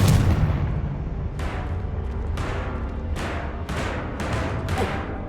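Confringo fire spells in an Xbox Series X fantasy wizard game burst as a run of loud, booming explosions, one after another, each followed by a rumbling decay.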